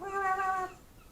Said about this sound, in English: Oh, the seagulls are squawking.